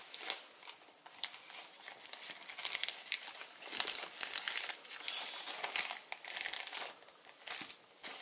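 Paper being folded into an origami Baby Ryujin dragon, with valley and mountain folds creased back into place; steady close crinkling and crackling of the sheet, rising and falling in bursts throughout, with no talk.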